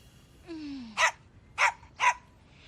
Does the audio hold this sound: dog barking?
yes